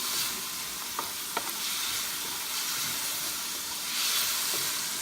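Kare kare is stirred in a pot, a steady broadband hiss and sizzle with a few faint clicks of the spoon, close and even throughout, no voices.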